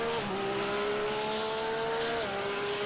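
A Porsche 911 GT3 R (992) race car in the iRacing sim game at Long Beach, its engine a steady, loud, held drone with a shift of pitch partway through.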